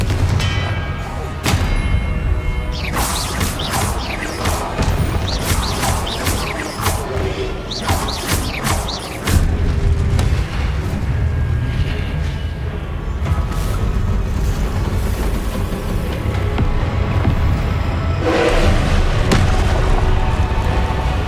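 Booming blasts from the Confringo blasting spell in Hogwarts Legacy, loud repeated explosions and crashing impacts through a dense, busy game soundscape, with no talk.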